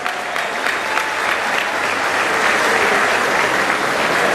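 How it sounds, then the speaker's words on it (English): An Assyrian New Year community audience gives a sustained round of applause honouring a local woman, dense steady clapping that swells slightly toward the end. "give Carmen a round of applause"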